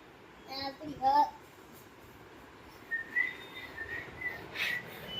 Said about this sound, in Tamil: எதுக்குடா காதுல விசில் அடிக்கிற?